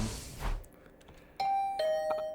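A room doorbell rings in the video game The Hundred Line: Last Defense Academy, two clear electronic ding tones in succession after a brief soft rustle, moderately loud and alone.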